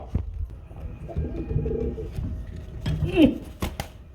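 Danish pigeons coo softly in a loft, low rounded calls rising and falling close by, with a few sharp clicks and faint chatter of people in the background.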